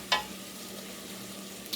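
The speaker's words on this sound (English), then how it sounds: "I'm gonna get these beans going here, mixed in with the lard and the bacon grease" Refried beans frying in lard and bacon grease in a metal pan give a steady close sizzle, with a couple of brief sharp clinks of stirring.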